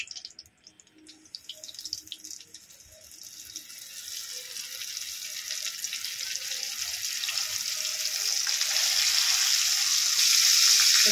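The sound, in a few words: fish frying in oil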